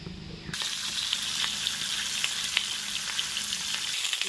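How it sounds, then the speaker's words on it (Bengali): Steady, crackling sizzle of turmeric-coated rohu fish frying in hot oil in a kadai, with sharp pops and spits scattered throughout, close up and continuous after a quiet start. "কড়াই গরম হয়ে গেছে তেল দিয়ে দিয়েছি মাছগুলো ভেজে নেবো"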